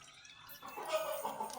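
Milk is poured onto a dosa griddle for making palkova, a soft, faint liquid trickle that begins after a brief quiet moment and continues alone.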